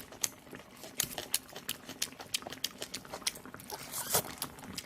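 Close, moist chewing and crunching of duck soup eaten with dipped onion at a countryside meal, in irregular soft bites and crunches with small mouth sounds and no talking.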